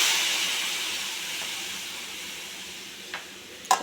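Tomato paste sizzles in frying masala for a vegetarian Kashmiri aloo dum, a steady close hiss that slowly fades, broken near the end by a few clinks of a utensil against the pan.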